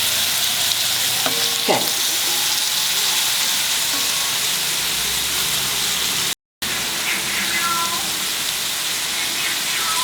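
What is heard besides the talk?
grated carrot frying in ghee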